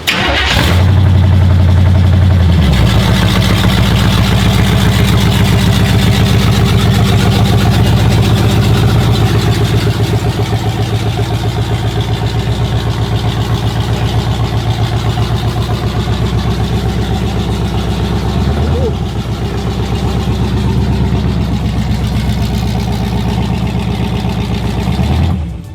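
A Mazda Miata engine cranks and catches, then settles into a loud, steady idle that rumbles on without pause for the rest of the clip.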